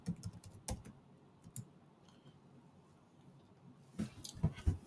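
Typing on a computer keyboard while entering commands in Kali Linux: a short burst of close key clicks, a pause with a couple of isolated taps, then another quick burst.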